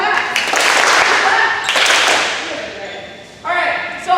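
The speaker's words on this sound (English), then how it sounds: "2 claps." A group of players at a coaching clinic claps twice in unison, two loud sharp bursts close together, with a brief voice near the end.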